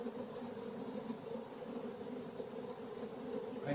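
Honeybees swarming over an open frame of a strong, healthy hive, a steady dense buzzing hum heard close up without a break.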